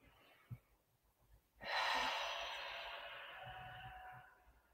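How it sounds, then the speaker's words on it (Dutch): A single long, close breath during a calm breathing exercise: a sharp intake followed by a slow, airy exhale that trails off, quiet and unaccompanied by talk. "Vind een ritme van ademhaling wat voor jou fijn is."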